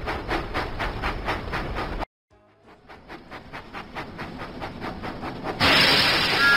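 Thomas the Tank Engine steam train puffing in a video game: rhythmic chuffs repeat steadily, break off briefly, then return and build before a loud hissing burst of steam at the end.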